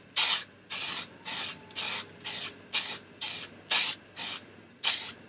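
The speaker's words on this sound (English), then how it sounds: "We'll give them a bit of a spray." Nine short, loud, evenly spaced bursts of an aerosol spray hit rust-converted outboard motor parts, each hiss lasting about a third of a second with brief gaps between, close by and without speech.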